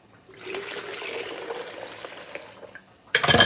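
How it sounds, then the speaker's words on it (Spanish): Water pours from a bottle into a bowl of masa with salt for pupusas, a steady close splashing trickle lasting a few seconds before tapering off into a sharp clatter at the end. "Y ahora va el agua."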